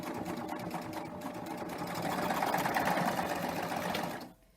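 A serger sewing machine runs fast and steadily with a long stitch length, stitching gathers into fabric; the loud continuous whirring hum fills the clip alone and cuts off abruptly at the end.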